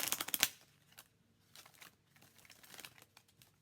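Tarot cards being shuffled, the deck a little sticky: a loud burst of riffling crinkle at the start, then softer intermittent card rustles and flicks, close and alone.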